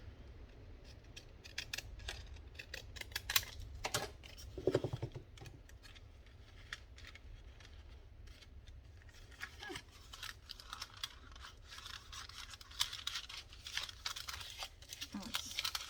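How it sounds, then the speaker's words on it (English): Scissors snip through paper for a butterfly craft, a run of small crisp cuts and rustles close by, with faint talk in the background. "Get my crazy scissors."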